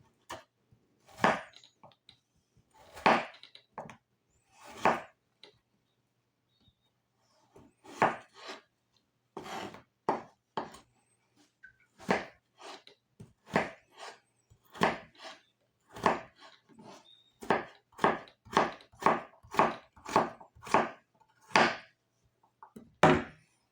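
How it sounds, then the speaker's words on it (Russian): Knife dicing potatoes into small cubes on a board for Tatar pies: sharp, close chopping strikes in uneven clusters, sparse at first and then faster and more regular, with no voices. "Картошку тоже нарезаем мелким кубиком."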